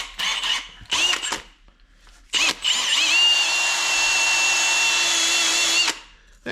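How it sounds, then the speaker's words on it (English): A power drill spins a wire brush against the exhaust area of a Bobcat 600 skid steer: a few short bursts, then one sustained steady whine for about three seconds, close and loud, with no talking. "Let me switch to a drill."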